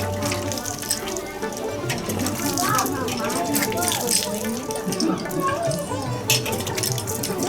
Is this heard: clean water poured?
yes